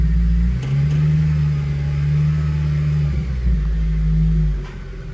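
A supercharged Honda Civic with a manual gearbox drives along, its engine droning loudly and steadily close by, with small shifts in pitch and a dip near the end.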